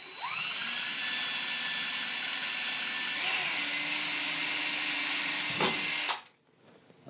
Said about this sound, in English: I'm just going to drill these holes.